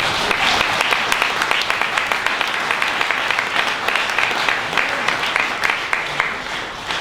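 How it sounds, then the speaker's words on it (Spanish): A large audience applauds steadily, dense clapping filling the space with a few cheers, loud and sustained throughout. "quiero un fuerte aplauso por Néstor Kirchner"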